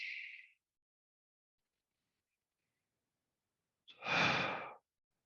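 A person breathes during seated chair yoga: a short soft exhale at the start, then a longer, fuller breath a few seconds later after a quiet gap, close and clear.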